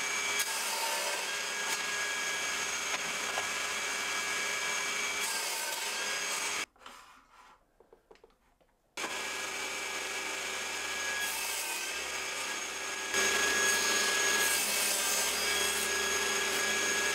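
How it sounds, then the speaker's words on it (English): Pallet wood pieces cut on a saw with a miter gauge, a steady loud buzzing cut that drops out briefly midway, then resumes and grows slightly louder toward the end. "I'm going to get the miter gauge set up and cut four bits for each one"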